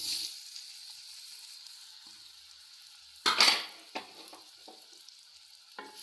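Ripe nendran plantain (ethapazham) pieces dropped into hot oil in a pan, giving a steady fizzing sizzle with a sudden louder crackle as they go in, followed by a few soft clinks of stirring.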